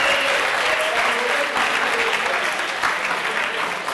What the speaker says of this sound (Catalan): I un aplaudiment també per aquest grup.